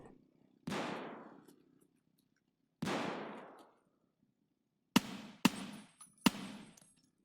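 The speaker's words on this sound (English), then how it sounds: "I'm hearing shots, but I'm not seeing them." Gunshots ring out in the video game Escape from Tarkov (SPT): two booming shots with long fading echoes, then three sharper cracks in quick succession, with no talking.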